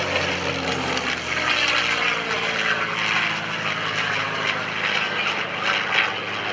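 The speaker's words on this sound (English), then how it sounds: "enjoy the sound of the V-12 engine" A P-51C Mustang's V-12 piston engine roars steadily and loudly throughout at an air show, a deep throaty drone with propeller buzz, close and unbroken with no voices.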